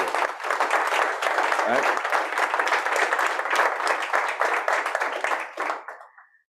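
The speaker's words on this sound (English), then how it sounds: "Big round of applause for you." Sustained audience applause for Sebastian and his team at the MindSphere Future World Series grand finale, dense steady clapping with a brief spoken word near the start, fading out at the end.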